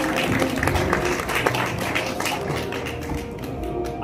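Audience applause breaks out at a real-estate agency's awards ceremony as a winner is honoured, a dense, steady clapping that fills the hall for about four seconds.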